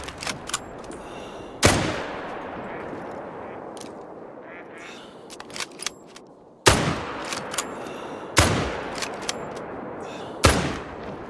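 Several sharp, loud gunshots from a .303 sporter rifle ring out at irregular intervals, each followed by a decaying echo across open ground, with quieter pops in between.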